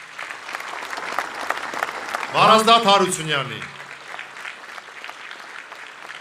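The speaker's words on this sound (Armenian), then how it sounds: "խնդրում եմ ծափահարություններ իմ ընկերներին։" Audience applause for human rights defenders at a public gathering in Armenia, continuous clapping throughout while a voice speaks over it briefly in the middle.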